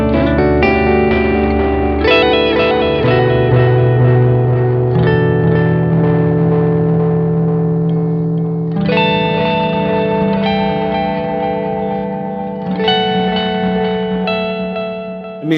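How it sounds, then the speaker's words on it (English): Silos delay pedal in tape mode, a dense wash of sustained, layered repeats that builds into a continuous cloud of guitar echoes, with new phrases entering and smearing into the trails throughout, loud and close. "It's like a cloud of delay."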